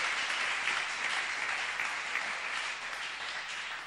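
A church congregation at a French-language Sunday service applauds the Lord with steady, dense clapping from many hands, filling the room evenly and tapering slightly toward the end.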